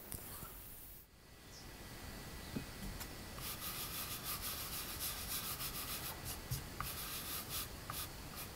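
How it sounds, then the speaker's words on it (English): A chisel pares a bevel along the edge of a carved woodblock printing block, making a steady dry scraping that runs continuously at close range with faint rhythmic strokes and no voices. "We just use chisels to put a nice bevel on the edge there."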